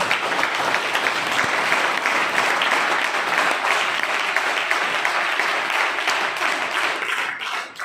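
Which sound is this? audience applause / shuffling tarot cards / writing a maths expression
audience applause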